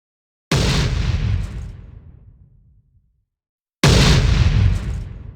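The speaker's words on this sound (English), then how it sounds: "Allies respond with machine gun fire from elevated positions, aiming to regain control." Two heavy blasts go off in a 1944 street battle in Stavelot, each a sudden loud boom with a long rumbling decay, separated by a few seconds of silence.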